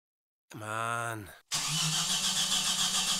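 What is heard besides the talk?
car engine failing to start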